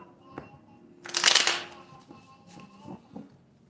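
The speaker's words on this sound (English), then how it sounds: "All right, I'm just shuffling." Cards being shuffled during a reading, a loud crisp riffle burst followed by softer card handling and shuffling sounds, close up, with no talking.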